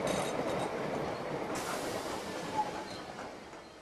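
A train passes on rails with a steady rumbling roar and rolling wheel noise, moderately loud and close, with a faint metallic squeal; no voices are heard.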